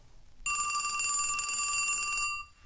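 A telephone bell rings loudly and continuously for about two seconds, bright and metallic, then cuts off, with no talk over it.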